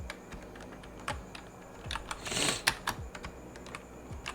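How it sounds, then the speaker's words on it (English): Close, quiet clicking of a computer keyboard while writing Python code, with irregular keystrokes and a brief burst of faster taps in the middle and no talking. "we can type this out"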